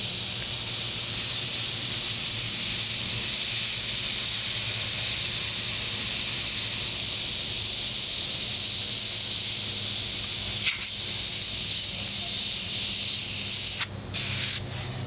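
An airbrush sprays paint onto a t-shirt in a steady, loud, close hiss that runs almost unbroken, with a few brief interruptions near the end as the trigger is released.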